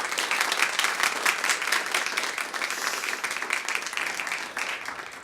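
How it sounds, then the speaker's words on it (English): Sustained audience applause at an academic talk on biodiversity and extinction, dense and steady clapping from a crowd filling the whole stretch without letting up. "Please give them a warm round of applause."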